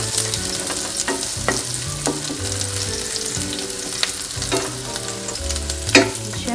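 Ginger and garlic sizzle steadily in a hot frying pan, a continuous bright crackle with intermittent scrapes and knocks of a utensil stirring, close and fairly loud, with no talking.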